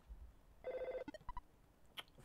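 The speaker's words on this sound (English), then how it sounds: "Oh, phone's ringing, dude." A telephone rings in the Earthbound video game as a run of quick, evenly spaced electronic chirps, followed by a few short bleeps and a brief higher tone. The sound is clear and fairly quiet, with nothing else over it.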